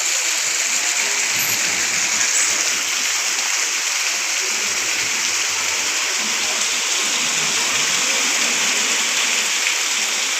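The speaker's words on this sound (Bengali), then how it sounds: "প্রচুর পরিমাণে বৃষ্টি হচ্ছে" Heavy rain pours down steadily, a dense, loud, unbroken hiss of water with no pauses and no voices.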